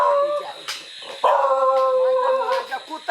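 A dog barks and draws out a wavering howl, close and tonal, with short breaks between cries.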